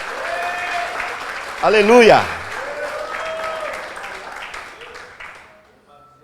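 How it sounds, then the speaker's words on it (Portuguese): A church congregation at a Portuguese-language sermon applauds steadily while a voice rises over the clapping with a drawn-out shout, then the applause thins and fades toward the end. "Pode aplaudir com força."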